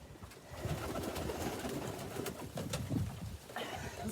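Pigeons cooing steadily at close range in a tumbler loft basket, low soft coos repeating throughout over a faint background hiss.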